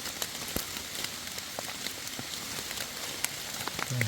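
Rain falling outdoors during mushroom foraging in the woods, a faint steady patter of drops on leaves and ground with scattered sharper ticks of nearby drips, no voices.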